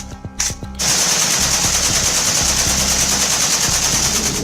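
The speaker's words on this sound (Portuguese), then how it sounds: "Esta página, por exemplo, oferece um fuzil AK-47, capaz de dar 600 tiros por minuto." An AK-47 assault rifle fires on full automatic, rapid loud bursts of closely spaced shots, a few separate rounds first and then a sustained roaring stream of gunfire.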